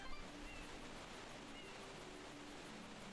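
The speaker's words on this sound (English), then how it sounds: "I don't really see anything except the waterfall going down in the water" In the video game Super Mario Sunshine, a newly uncorked waterfall pours down into the sea, making a steady, faint, even rushing wash that never breaks.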